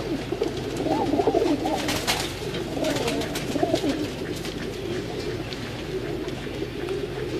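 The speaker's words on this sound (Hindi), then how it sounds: "और एक ये कबूतर है जी, ये देखें, ये उस्ताद सुहेल अंसार खान साहब के घर का कबूतर है" Pigeons coo on a rooftop loft, soft throaty rolling calls repeating at moderate distance amid background chatter and rustle, with someone talking faintly at times.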